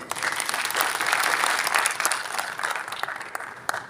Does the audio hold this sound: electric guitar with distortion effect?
no